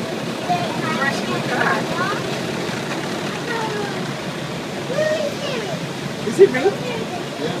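A continuous rushing water spray from a bus wash at an Ottawa public transit garage fills the background while people talk over it, with a few squeaky mechanical sounds toward the end.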